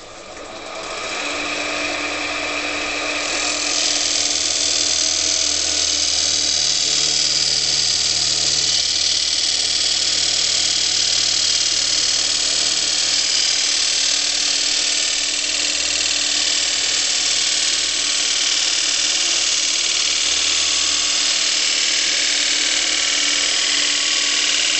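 A turning tool cuts wood on a wood lathe, one edge blunt and the other still sharp, giving a loud, steady scraping whir with a grinding, ratchet-like texture that carries on without break, and no talk.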